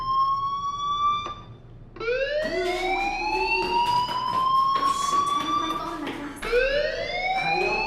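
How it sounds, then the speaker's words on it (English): A fire alarm in the Life Is Strange video game wails with rising, sweeping tones that restart several times, loud and close, with faint voices underneath. "do you hear that fire alarm?"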